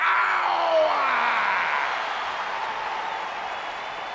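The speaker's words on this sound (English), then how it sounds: "Clap for your best-of-5 series host and feel the power!" Arena crowd in the WWE 2K20 wrestling video game applauding and cheering, a dense, steady roar of clapping that fades slightly after the first two seconds, with a faint whistle-like tone sliding through it.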